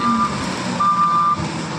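A truck's reversing alarm beeps in slow, steady tones over a loud engine rumble nearby, as the vehicle backs up for loading on wet, slippery ground.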